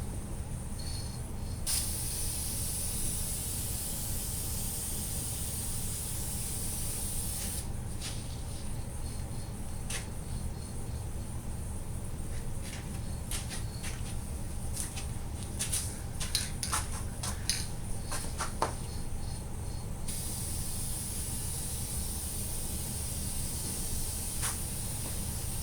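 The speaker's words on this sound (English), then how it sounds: "Just go ahead and spray it down." Aerosol can spraying finish onto a red oak longbow in long hissing bursts, broken by short pauses and faint clicks, close up and steady.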